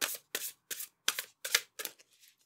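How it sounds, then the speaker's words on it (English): Oracle cards are shuffled in midair in about seven quick riffling bursts. The close, quiet bursts are evenly spaced and fade toward the end. "It's a little hard to shuffle midair"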